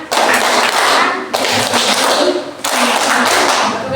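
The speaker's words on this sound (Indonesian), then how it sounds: "Ayo, tepuk semangat." A classroom of students claps together in the rhythmic 'tepuk semangat' spirit clap, dense, loud bursts of many hands in three phrases, each ending sharply before the next begins.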